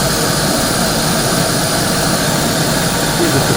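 Close and loud, a Fire Maple Star X5 Polaris camping stove burner runs at full power, giving an even, unbroken hissing roar that holds steady throughout.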